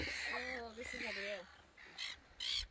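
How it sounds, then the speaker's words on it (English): Seagulls calling at a beach in Port Vincent, South Australia, several harsh wavering cries close by with breezy outdoor noise, one voice speaking briefly amid the calls. "Now the seagulls are coming."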